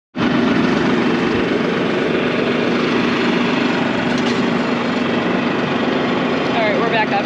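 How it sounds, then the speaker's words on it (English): A tractor engine drones steadily and loudly nearby in an orchard, a constant rumbling roar that starts abruptly and holds throughout. "Steve's on the tractor."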